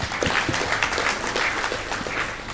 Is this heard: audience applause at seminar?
yes